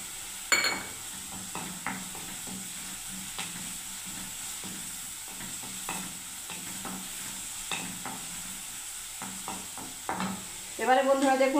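Garlic paste frying in a pan with a steady low sizzle, punctuated by repeated scraping and stirring strokes of a utensil, ending in a burst of sharper crackling.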